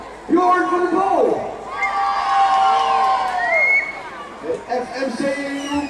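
A home crowd cheers and shouts, children among them, at a regional championship youth cycling final, a loud and sustained roar with whoops rising and falling close by, mixed with excited voices.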